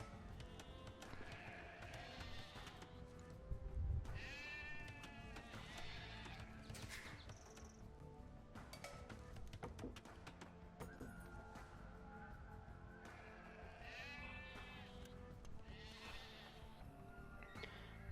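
Sheep bleat in the Age of Empires 2 video game, repeated short calls scattered among busy game sounds, including hoofbeats and neighing, over a steady background.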